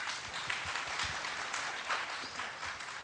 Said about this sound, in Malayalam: നല്ലൊരു കൈയടി കൊടുക്കുക